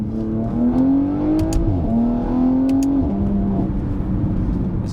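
Porsche Panamera 971 accelerating hard in Sport Plus mode with the exhaust flaps open, a loud, close engine note climbing steadily in pitch through two gear changes before settling into a steady drone.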